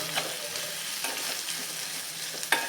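A spoon stirs spices and garam masala in a frying pan for spicy aloo palak, giving a steady soft sizzle with a few scraping strokes and one sharper clink near the end, close and alone without talk.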